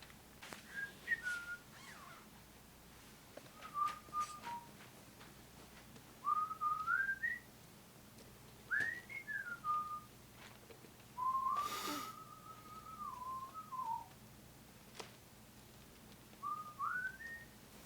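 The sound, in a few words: man whistling in Breaking Bad scene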